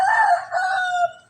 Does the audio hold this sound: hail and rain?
no